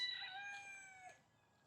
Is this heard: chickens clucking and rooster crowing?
yes